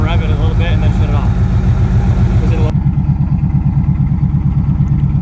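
A Chevy K1500 pickup engine idling as it warms up after being brought back to running, a loud steady rhythmic chugging with metallic clatter and a voice talking over it in the first half.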